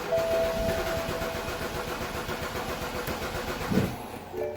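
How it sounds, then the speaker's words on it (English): A 2009 BMW 328xi E90 with a stalling fault and an unprogrammed fuel pump control module cranks repeatedly without catching, a steady mid-pitched whirring churn that stays loud and even before cutting off near the end. "You can try all day to start it, it will not start"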